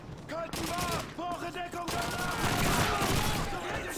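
A PPSh submachine gun fires rapid bursts in the Soviet campaign of the video game Call of Duty 2, a dense rattle of gunfire mixed with battlefield noise and brief voices.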